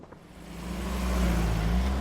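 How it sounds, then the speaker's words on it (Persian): A car engine in Assassin's Creed Valhalla revs and builds steadily as the vehicle drives off, with a loud, sustained low rumble. "صدای گاز ماشینشون که اومد."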